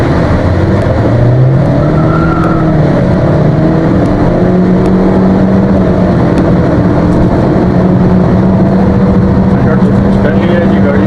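A Honda Civic RS accelerates hard during a 0 to 100 run on an open road, its engine note rising steadily through the gears as a loud, close drone heard from inside the car.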